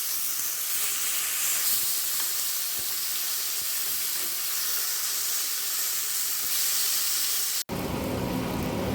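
Pomfret fish shallow-fries in a little oil, a loud steady hiss of sizzling close up that cuts off abruptly near the end into a different, rougher texture.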